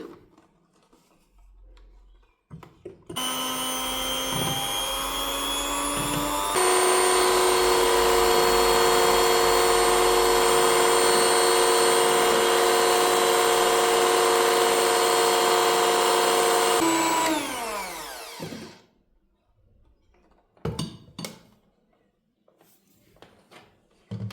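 An electric beater whips chilled milk into whipped cream, its steady high motor whine running loud and unbroken for about fifteen seconds before winding down, with faint handling noises before and after.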